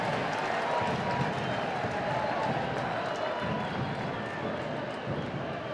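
A crowd at a Portland Thorns women's soccer match at Providence Park sends up a steady, dense roar of cheering that fills the whole stretch, loud and continuous without pauses.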